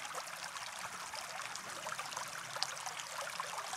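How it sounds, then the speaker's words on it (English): Water sloshes and swirls in a gold pan near streamside, a soft continuous trickling wash with small splashes, faint and steady with no talking. "I'll take this and just swirl that water around a little bit"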